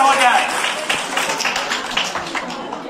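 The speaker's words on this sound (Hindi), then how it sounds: "जोरदार तालियां हो जाए" A school quiz competition audience claps after a correct answer: a dense, loud burst of applause that slowly thins out, with a voice speaking over it.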